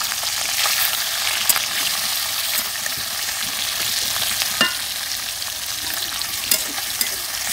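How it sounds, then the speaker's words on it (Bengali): Fresh river shrimp frying in a pan on a clay stove, a continuous close sizzle with occasional sharp pops and clinks of stirring, no talk. "মাছ দিয়ে দিচ্ছি কড়াইতে"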